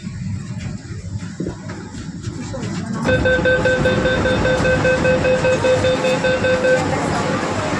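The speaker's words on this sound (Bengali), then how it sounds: "হাওড়া স্টেশন এসে ঢুকলো প্রায়" An underwater metro train pulls into Howrah station with a loud, steady rumble of wheels and cabin noise, then a sustained multi-tone chime or whistle sounds for several seconds over the rolling din.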